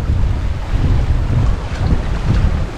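Strong wind of up to 27 knots roars across a sailboat surfing down ocean waves on a passage from New Zealand to Tonga, a loud, continuous low rush with buffeting on the microphone and water noise.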